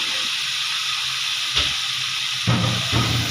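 Vegetables fry in a pan with a steady, bright sizzling hiss, broken by a few louder sputters and clatters near the end.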